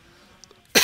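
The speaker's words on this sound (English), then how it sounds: "I had to cough" A single sharp cough bursts out at the end after near silence, close and loud, from a young person chatting casually.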